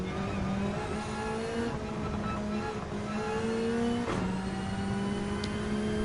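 A GT500 race car in the video game Gran Turismo 7 holds a loud, steady engine drone with rising pitch through the gears and a brief shift or downshift dip midway, heard alone with no voices.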